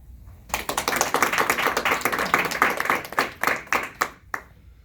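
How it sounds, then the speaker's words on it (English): Families clap at a Marine swearing-in ceremony, a dense round of hand claps that starts abruptly, holds steady for several seconds, then thins into scattered claps before stopping. "you can give them a round of applause."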